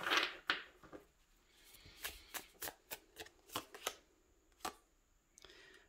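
A deck of tarot cards is shuffled and handled close up, giving a run of soft, quick riffling and slapping bursts in an uneven rhythm with no talking.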